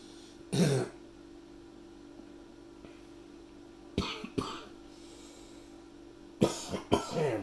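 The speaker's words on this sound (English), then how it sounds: "Pardon the coughing, I've got a head cold." Several sharp coughs and throat clearings from a person with a head cold in separate bursts, one early, a pair midway and a cluster near the end, over a quiet hum.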